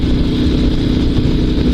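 A Dnepr 16 2WD sidecar motorcycle's boxer engine with twin carburetors runs steadily close by, a loud, even throb with no voices over it.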